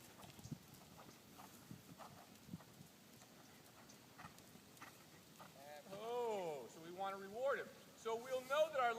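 A horse's hooves thud in soft, regular beats as it is lunged in a circle, faint and distant at first, with a person talking over the later part.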